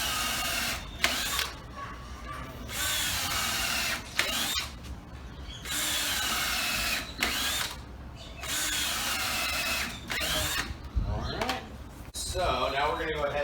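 A power drill drives screws into wood while a hand-washing sink is being built, running in a series of loud whirring bursts of a second or two each, separated by short pauses, ending in a longer run.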